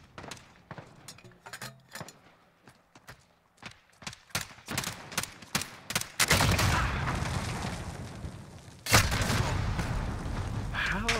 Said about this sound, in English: How am I getting shot through the wall here?